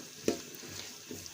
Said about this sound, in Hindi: अब इसे हम होने देंगे फ्राई